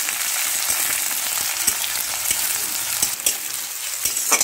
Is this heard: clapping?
no